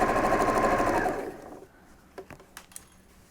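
A sewing machine runs fast, stitching a medical isolation gown with black thread, for about a second, then stops, leaving a few light clicks and taps.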